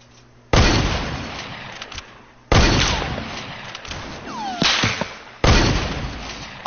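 Gunshots in Fortnite: four loud, sharp cracks at intervals of about two seconds, each followed by a ringing, echoing tail, with fainter clicks and effects in between.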